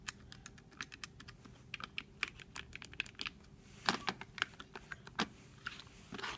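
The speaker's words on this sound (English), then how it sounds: "that's a little bit more satisfying to press a button like that" Buttons on a Retrobit Super Retro SNES controller are pressed in quick, irregular bursts of crisp plastic clicks close to the microphone, some rapid runs and some single taps, with no talking.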